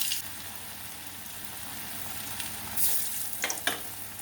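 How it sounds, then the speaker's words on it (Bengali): Kofta balls fry in hot oil, giving a soft, steady sizzle throughout, with a few brighter crackles and pops near the end. "এবার সবগুলো আমি ভেজে নেবো।"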